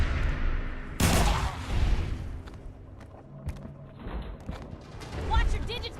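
Gunfire in the video game Fallout 4, a sharp loud shot followed by booming echoes and scattered thuds, with a voice talking at points.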